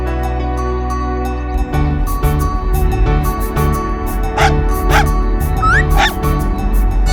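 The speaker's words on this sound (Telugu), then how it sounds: "ఆ రోడ్డు మీద ఒక చిన్న కుక్క పిల్ల ఉంది" A small puppy on a road whimpers and yips in a few high, rising cries, fairly close, over a steady loud background of music and other sound.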